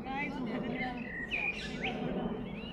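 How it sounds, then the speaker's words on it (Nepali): Birds chirping in Richmond Park, London: several bright tweets and short rising whistles scattered over a soft outdoor background, near and fairly clear, with a faint voice in the background. "कस्तो मजाको यो के चराहरूको आवाज कस्तो दामी आइरहेको क्या"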